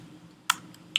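A few sharp, separate key clicks from a computer keyboard, one near the middle and another at the end, over a quiet room hum with no talking.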